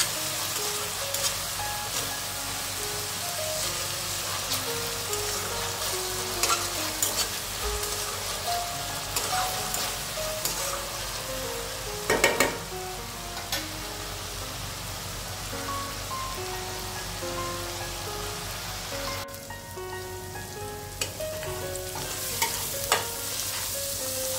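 Masala for prawn rice sizzling and frying in a pan, with a continuous crackling hiss and repeated scrapes and clinks of stirring, while faint music plays in the background.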